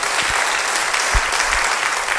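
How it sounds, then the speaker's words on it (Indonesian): Church congregation breaks into loud, dense applause, many hands clapping steadily and close, with a few low thumps underneath. "Beri tepuk tangan bagi dia."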